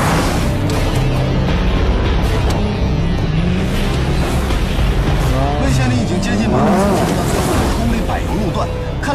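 A race car engine roars continuously during a race, loud and sustained, with revving shifts and rising pitch sweeps near the end, while a voice talks over it.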